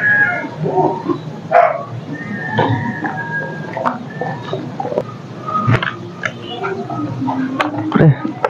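A dog barks a few times with short yips, mixed in with people talking nearby.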